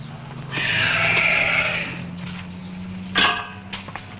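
A horse from the Royal Horse Society stock in 1970s Iran gives a long, clear whinny, followed by a second shorter neigh and a snort, fairly close with no talking.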